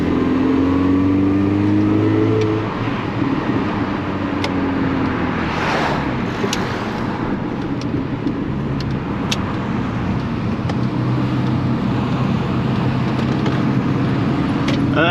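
Someone's first project car takes a quick run around the block. The engine drones loud and close from inside, rising and falling through rev changes, with road rumble beneath and no talking.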